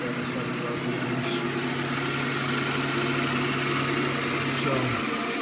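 A G0602 lathe motor runs from a VFD at about 2070 RPM, making a steady mechanical hum with a constant low tone that drops near the end, while a voice talks over it.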